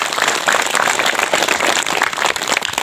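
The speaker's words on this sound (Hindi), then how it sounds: "चलिए एक बार सबके लिए ताली बजा दें" A crowd applauding at a community gathering, with steady, dense clapping filling the whole stretch at a constant, fairly loud level.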